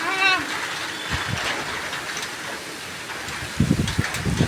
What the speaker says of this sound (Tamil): சரியான மழை இருக்குது